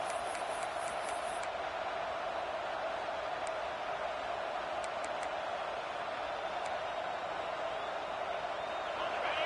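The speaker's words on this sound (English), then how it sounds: "this crowd is turning it up a notch" A stadium crowd roars in the Madden 26 American football video game, a steady loud wash of cheering held throughout, with a few brief whistle-like tones near the start.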